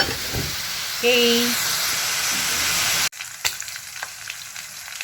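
Baguio beans frying in canola oil give off a loud, steady sizzle and spatter close by, with a short spoken word over it before the frying turns quieter and crackly.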